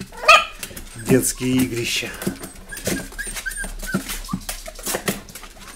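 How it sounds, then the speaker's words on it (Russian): Dogs playing close by bark, yip and whimper in quick irregular bursts while a person speaks in Russian. "Смешная собака."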